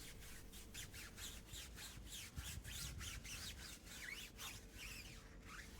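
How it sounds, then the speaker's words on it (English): A tire brush scrubs the tire of a Volkswagen T-Roc during a deep clean, quick rhythmic back-and-forth rubbing strokes repeating steadily, close but quiet. "we use a tire brush to properly scrub the tire and loosen up all that dirt"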